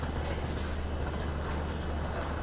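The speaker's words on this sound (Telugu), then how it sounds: "అది వచ్చేసి మనకు విశాఖపట్నం కాకినాడ ప్యాసింజర్ ట్రైన్ అయితే ఉంది." A Visakhapatnam–Kakinada passenger train at a station, heard from a footbridge above as a steady low rumble and rolling noise, fairly distant and continuous with no voices.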